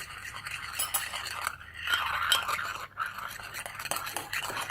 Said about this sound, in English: Now guys, start mixing.